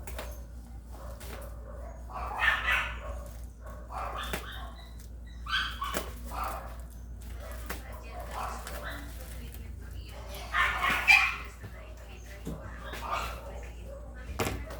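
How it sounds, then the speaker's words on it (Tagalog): A dog barks and yelps intermittently in short bursts amid people talking, with some faint sharp clicks in between. "Yung aso."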